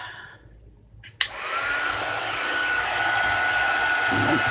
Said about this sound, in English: Heat for a second. Sorry for the noise.